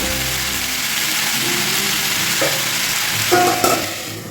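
Vegetables fry under a lid in a pan for a simple winter-style Bengali veg dish, giving a steady close sizzle with a couple of brief clinks near the end.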